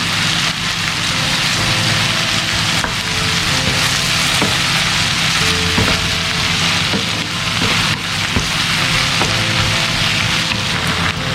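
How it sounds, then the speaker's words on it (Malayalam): Crushed ginger and garlic fry in hot ghee in a pan for a chicken ghee roast, giving a loud, continuous crackling sizzle with occasional stirring scrapes. "1 ടീസ്പൂൺ ഇഞ്ചി വെളുത്തുള്ളി ചതച്ചതും ഇട്ട് കൊടുക്കുന്നുണ്ട്."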